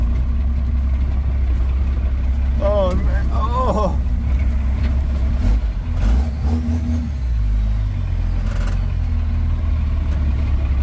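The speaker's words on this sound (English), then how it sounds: "Yep, he indeed lost the exhaust off his truck." A truck that has lost its exhaust roars loud and close at a car show, its engine rumbling steadily throughout while a couple of short exclamations break in over it.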